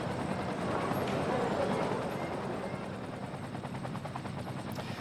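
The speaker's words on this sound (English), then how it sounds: "Sounds like the fire helicopters are on their way." Fire helicopters in Cities Skylines, a dense rotor roar with rapid chopping pulses, loud and sustained over a busy background, swelling then easing slightly.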